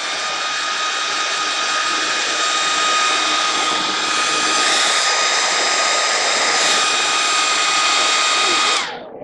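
Heat gun heat-setting orange Createx paint, a loud, steady, close whooshing blower hum with a faint whine, running continuously and shutting off at the end.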